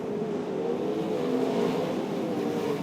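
Sprint cars race around the Archerfield Speedway track, a steady, loud engine roar that fills the whole stretch with continuous droning and revving and no break.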